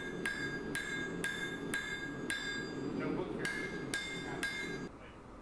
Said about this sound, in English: work the steel at the edge of the anvil to allow the face of the hammer to extend over the anvil